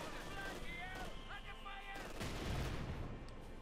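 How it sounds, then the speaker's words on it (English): German mortar battery firing in the video game Company of Heroes 2 during a 1v1 match, with distant thuds and explosions and scattered gunfire layered under game audio, building to a louder rumbling blast late on. "German mortar battery there continue to hound the British infantry, threatening them with death from above."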